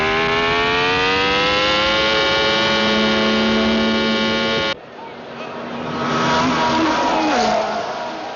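Grand Prix race cars, including a Yamiura and a BRM, roar into the last corner toward the finish, a loud sustained high-revving engine drone that drops abruptly midway to a rougher, quieter engine and crowd-like wash.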